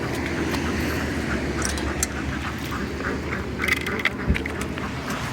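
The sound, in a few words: ducks quacking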